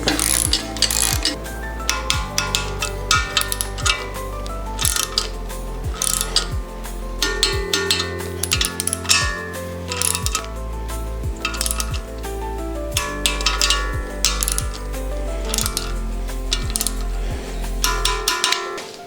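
A ratchet wrench tightens bolts on the engine of a modified 350 hp Citroën C15, giving loud, rapid clicking runs in repeated bursts with brief pauses and occasional metallic clinks.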